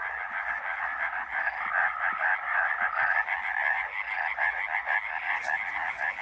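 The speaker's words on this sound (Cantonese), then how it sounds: "歐洲樹蛙只有一個聲浪俾佢發出聲音，但係佢嘅聲音可以傳到好遠，" European tree frogs croak in a dense spring chorus in wild Iberia, a rapid, ringing call that runs without pause throughout, loud and close, with no voices.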